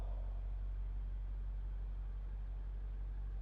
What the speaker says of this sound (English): Then the driver is gonna remove his foot from the brake pedal, and then he's gonna take off